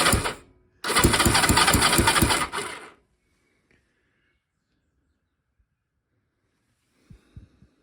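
A BSA Fury SS (E35SS) motorcycle engine fires with no throttle in two loud, rough bursts, the second running about two seconds, then cuts to near silence with a few faint knocks at the end.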